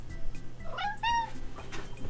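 A cat meows twice in quick succession, fairly close, over a low steady room hum with no talking.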